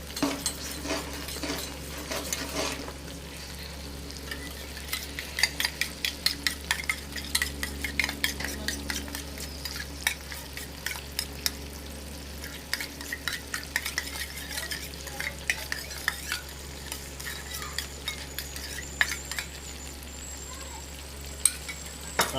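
A spoon stirring orange halwa food colour into a little water in a pan, a steady run of quick light scraping and clinking strokes, close and soft over a low background hum.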